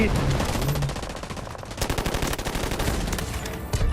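Rapid automatic gunfire from the Delta Force Mobile video game, dense bursts of machine-gun shots rattling steadily across the whole stretch, loud and close, with a faint voice now and then underneath.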